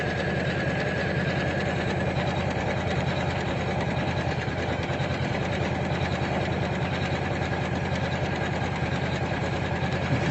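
A Usha Janome Memory Craft 550E computerized sewing machine runs steadily throughout, its fast, even needle rhythm humming close and loud with no talking.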